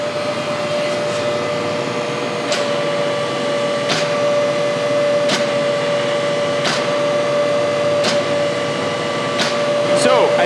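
A 25-ton H-frame hydraulic press on a 10 hp power unit auto-cycles with a steady motor hum and tonal whine, marked by sharp periodic clunks roughly every one to two seconds, close and loud throughout.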